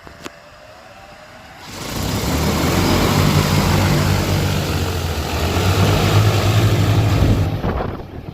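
A DJI spray drone's propellers spin up for takeoff, a loud, dense whooshing roar with a low droning hum that holds steady and then eases near the end, with no speech.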